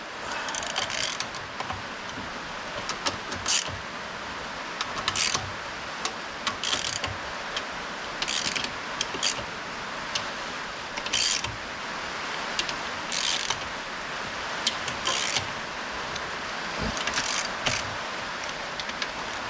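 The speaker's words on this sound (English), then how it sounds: "You can sort of feel how tight you're going, that's why I like doing it with a ratchet." Ratchet tightening the filter pan bolts on a Powerglide transmission during a filter and rear seal replacement: a steady run of close, bright clicking bursts, repeated roughly every second or two over a low background hum, with no talking.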